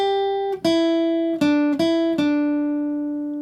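Guitar riff from a song, a few clean, sustained notes picked slowly one after another, each ringing out clearly and alone.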